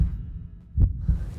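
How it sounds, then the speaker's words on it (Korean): A heartbeat sound effect in a dating reality show, with deep muffled thumps, one strong beat followed by a softer one, loud and alone. "심장이 막 두근두근."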